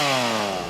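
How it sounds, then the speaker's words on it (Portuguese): A chainsaw starts into African mahogany in a dense plantation forest being thinned, its close, loud engine whine holding a steady pitch that slowly sags as the chain bites, with no voices. "é uma das primeiras a ligar a motosserra para tirar a madeira das suas áreas"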